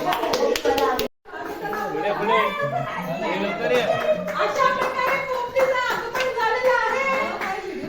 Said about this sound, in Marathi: सगळ्यांनी टाळ्या वाजून स्वागत करत द्यायचं